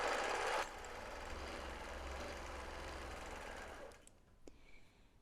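A quilting machine stitching through fabric, a steady rapid mechanical whir running for about four seconds before stopping, leaving a few faint clicks.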